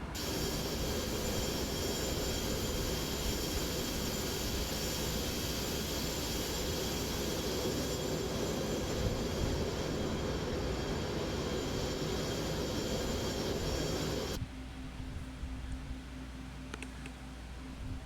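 Steady roar of the ERJ-145XR's jet engines in the X-Plane 11 flight simulator, a loud continuous drone that drops abruptly to a quieter hum near the end, with no talking.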